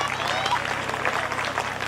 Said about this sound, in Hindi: तो हम इंडिया वालों के लिए एक बार जोरदार तालियां हो जाए